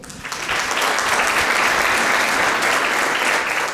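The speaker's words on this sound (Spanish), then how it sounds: "Le damos un aplauso a Dios." A church congregation breaks into applause, the clapping swelling quickly and holding as a loud, dense, steady roar of many hands.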